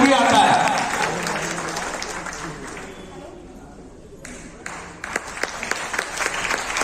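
A crowd at a party workers' felicitation ceremony applauds, loud at first and fading to a quieter patter, followed by sporadic individual claps and bits of talk.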